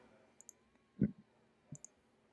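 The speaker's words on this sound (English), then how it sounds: "So I'm just clicking through fonts." Computer mouse clicks while scrolling through fonts in Adobe Spark: a few quiet, sparse clicks in pairs, close and soft against a near-silent room.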